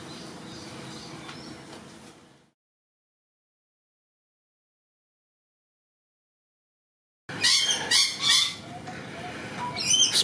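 Pet birds chirp indoors in two bursts with a silent gap between, the later burst louder and closer, made of quick bright tweets and calls.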